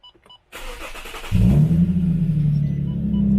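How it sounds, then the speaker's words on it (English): VQ37VHR V6 engine in an Infiniti G37 or Nissan 370Z cranks briefly after a click, then catches and settles into a loud, steady close-up idle rumble. "I'm gonna just stop it for now and start it again."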